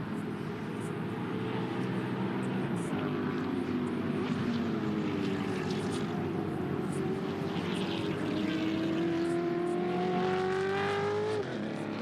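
A Ford Mustang touring car at a Queensland Raceway Touring Car Masters race drones steadily throughout, its engine pitch climbing gradually toward the end before cutting off, loud and continuous with no talk.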